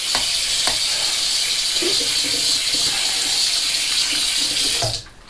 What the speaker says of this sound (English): Use some cold water here.